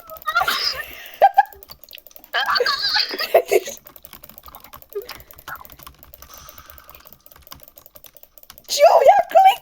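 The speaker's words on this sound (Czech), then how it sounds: "Já klikám!" Rapid computer keyboard and mouse clicking during a video game, tapping in quick bursts close to the mic, with excited voices and laughter breaking in between.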